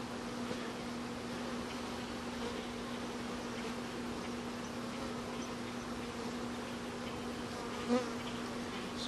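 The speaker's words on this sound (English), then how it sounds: "So now we've got a lot of bees coming here that want to get in this top box" Many bees buzz in a dense, steady drone around a wooden hive box, close and continuous with no talk.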